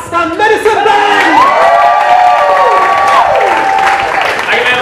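A loud crowd cheers and applauds for a band, with rising and falling whoops and shouted voices riding over dense clapping, sustained throughout at close range.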